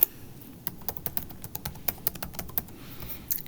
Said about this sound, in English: So I am going to type in my parent's email.